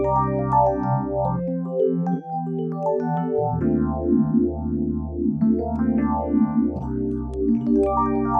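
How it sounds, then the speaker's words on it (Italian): Classic Rhodes electric piano played through its internal phaser effect, warm sustained chords and bass notes with a slow sweeping swirl, clear and close with no talking. "Quello che avete sentito era un timbro classico di Rhodes con il phaser"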